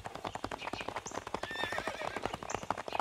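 Horses' hooves clip-clop steadily beside a moving carriage, a dense close rhythm of hoofbeats with occasional neighs and whinnies rising over the clatter.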